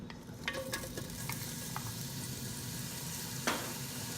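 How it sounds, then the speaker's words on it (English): Onions sautéing in olive oil in a pan for beef bulalo, a steady close sizzle with a few soft stirring scrapes and clicks scattered throughout. "Saute this for a minute."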